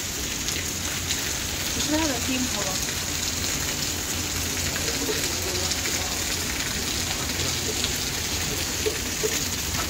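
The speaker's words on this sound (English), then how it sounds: "we need this rain because it's been hot as here." Steady rain falls in a hot outdoor setting, making a constant broadband hiss from start to end, with voices faintly in the background.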